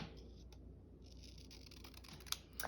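Scissors snip through paper in a few small, crisp cuts close by, the clearest clips near the end over a quiet background.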